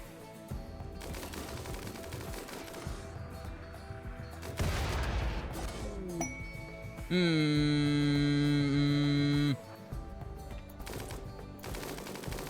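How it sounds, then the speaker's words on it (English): Mortars and other guns firing in the Rimworld video game, rapid bursts of gunfire and booms over a game soundscape with a loud sustained tonal hum partway through. "All mortars, open fire on that auto mortar"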